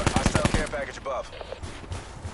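Rapid bursts of video game gunfire, a quick string of loud shots at the start, then scattered fainter shots, while players talk over it.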